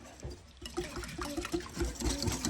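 Warm water is whisked into canned tomato paste in a bowl, with irregular close-up sloshing and tapping strokes that grow steadier and louder. There is no talk.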